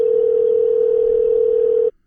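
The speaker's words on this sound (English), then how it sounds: "As the phone rings" A telephone line tone on a call placed from a podcast, a single steady unbroken tone held clearly for almost two seconds before cutting off abruptly into silence.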